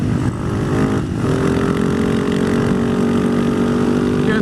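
A Husaberg 650 motard's big single-cylinder engine drones loudly and steadily under load, with a brief dip before the revs pull on, heard close and continuous with no voices.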